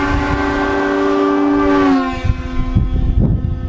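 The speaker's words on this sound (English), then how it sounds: "We also installed this beast, which is the same type of horn system used on trains and semi-trucks." A train-style air horn fitted to a car, fed by a compressor and an air tank at 120 psi, blasts a loud, sustained multi-tone chord for about two seconds, then cuts off into a few sharp clicks and thumps.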